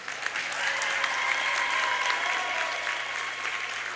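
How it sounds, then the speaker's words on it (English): Crowd applause in a gym at a varsity volleyball game, a steady, dense round of clapping from many people that holds for several seconds. "let's give them one more round of applause"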